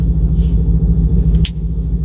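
Low rolling rumble of thunder during a rainy spell, a continuous heavy low-end roar lasting throughout, with a brief sharper crack near the end.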